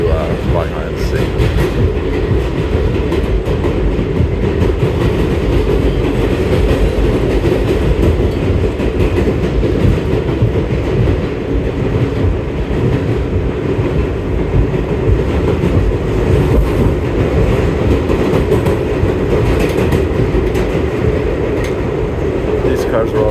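A New York subway train rides from Long Island City toward Manhattan with a loud, sustained roar and rattle of wheels on track throughout, while a voice talks over it.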